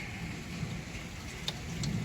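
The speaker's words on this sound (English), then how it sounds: "I can see it started hailing" Rain storm with pea-size hail in Texas, a steady outdoor hiss of falling rain with faint scattered ticks from hail, no voices.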